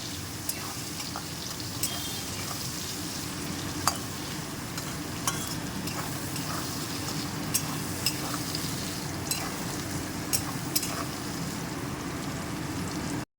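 Two medium onions, chopped very fine, fry in a pan at home with a continuous crackling sizzle, broken by sharp clicks and scrapes of a stirring spoon every second or two.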